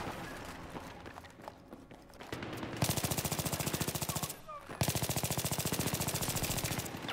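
Battlefield 3 gunfire from an AK rifle and a Glock 18: scattered shots at first, then two long, rapid automatic bursts with a short break between them, fairly loud and close.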